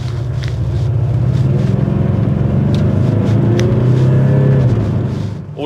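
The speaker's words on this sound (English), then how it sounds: "All of a sudden we get a V8 burble from the exhaust." A Maserati Ghibli V8 in sport mode rumbles loudly with a deep, pulsing exhaust burble that builds and holds, heard close and without speech.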